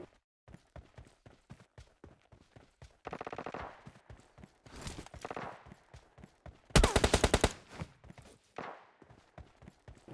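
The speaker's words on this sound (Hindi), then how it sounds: "इधर से भी मेरे को गन साउंड की आवाज़ आ रही थी" Gunfire in the mobile battle royale game PUBG Mobile Lite, with several bursts of rapid automatic shots among steady single footstep-like taps, the loudest burst coming late and close.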